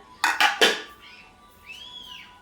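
Three quick clanks of a mixer jar and dishes being handled in a kitchen sink during washing, followed by a faint ringing scrape, close and clear with no talk.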